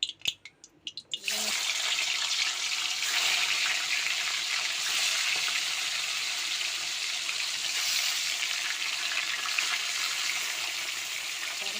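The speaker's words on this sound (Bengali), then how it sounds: "মাছটা ভাজা হচ্ছে, এক ফুট ভাজা হয়ে গেছে" Tilapia fish frying in hot oil on a gas stove, giving a steady, loud sizzling hiss that starts abruptly and continues unbroken.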